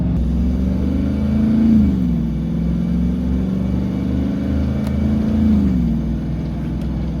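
A V8-swapped FZJ80 Land Cruiser rolls downhill holding a low gear, its engine a steady close rumble inside the cab with two gentle rises and falls in pitch.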